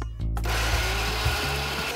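Ginger, peppercorns and coriander seed powder ground to a paste in an electric grinder, which starts up after a brief pause and then whirs loudly and steadily up close, its motor pitch wavering slightly.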